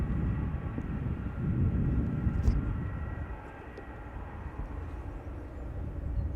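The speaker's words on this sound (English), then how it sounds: "I think there is a 737 arriving from Tel Aviv" A Boeing 737 arriving from Tel Aviv at Amsterdam Schiphol rumbles as a distant jet, a broad low roar that swells and eases slightly over several seconds.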